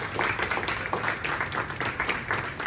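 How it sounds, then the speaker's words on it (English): Audience at a middle school ceremony claps steadily for a group of young men, a dense, continuous wash of applause filling the room without a break. "So can we do them a quick favor and clap it up for the young men"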